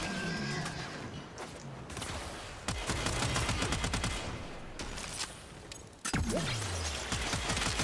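Tenora weapon in the video game Warframe firing in dense, continuous bursts of rapid shots, loud and close, with sharp louder blasts at intervals and no talking.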